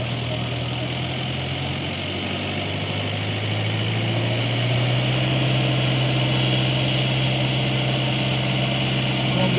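A Yanmar tractor engine idles steadily with a constant low drone and a slight rise in loudness midway.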